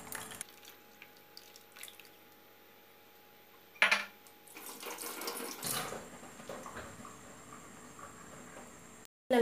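A clink against a metal pot, then tamarind water pours steadily into it for several seconds, ending with a short knock at the end, while cooking fish curry.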